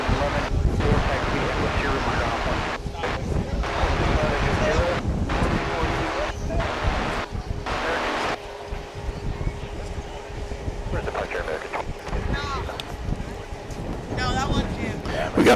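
Strong wind roars across the microphone at Dallas Fort Worth International Airport, a loud steady rumble with brief gusty dropouts throughout, while a person speaks over it.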